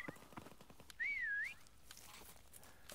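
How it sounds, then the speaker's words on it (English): A single rising-and-falling taunt whistle sounds in a Call of Duty prop hunt match, short and clear over quiet game ambience with faint footsteps and clicks. "I hear the whistles, but I can't see anything."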